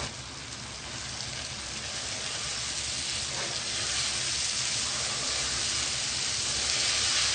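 Boiled mash dal frying in masala in a pan, giving a steady, soft sizzling hiss that builds slightly in loudness and continues alone without talk.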